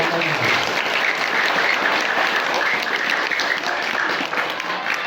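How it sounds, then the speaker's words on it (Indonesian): Students at a junior high school assembly applaud a religious lecture, a continuous, even roar of clapping from a large crowd lasting the whole stretch. "Tepuk tangan dulu."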